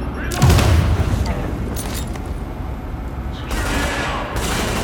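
Gunfire in The Division, a third-person shooter, coming from below during a mission at the Russian Consulate: a dense fusillade of shots and booms with sustained background rumble, while a player talks over it.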